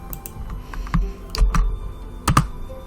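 Keys clack on a computer keyboard in irregular bursts, a few quick taps then pauses and louder clusters of strokes, close and clear with no speech.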